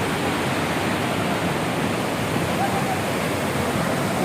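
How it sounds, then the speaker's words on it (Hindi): Glacier meltwater rushes out fast in a steady, loud broadband roar, close by and unbroken for the whole stretch, with no talking over it. "ये बर्फ़ का पानी तेज़ी के साथ निकल रही है"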